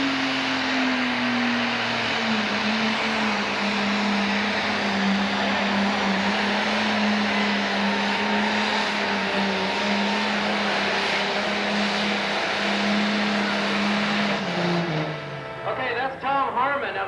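Don McKinnon's 1,000 horsepower Superstock pulling tractor roars through a pull at a 1996 Evansville, Indiana hot rod event, a loud, sustained engine drone with a steady pitch that drops near the end as the engine winds down.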